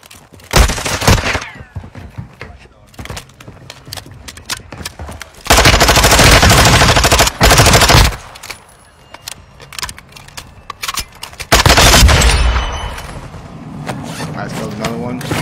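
Automatic weapon fire in the video game Call of Duty Warzone, loud rapid bursts of gunshots separated by quieter gaps, with a player's voice talking in between.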